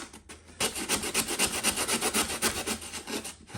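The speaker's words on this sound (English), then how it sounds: "So I'm just gonna take the 60 grit sandpaper" A wooden edge is worked by hand with coarse 60-grit sandpaper, producing about a dozen steady, evenly paced rasping back-and-forth strokes, close and loud, with no talking.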